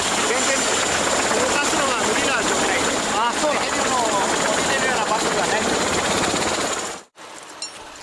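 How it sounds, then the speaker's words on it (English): A helicopter's steady rotor roar fills the air at close range near a cliff face in Japan, with voices faintly underneath, until the sound cuts off abruptly near the end. "The helicopter can only fly until sunset."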